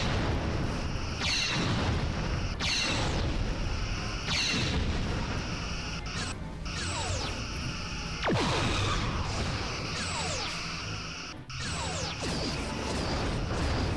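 Quantum torpedoes slam into a starship in Star Trek Bridge Commander, a series of heavy booming explosions every couple of seconds, each with a descending whine and a rumbling tail, loud and dense throughout.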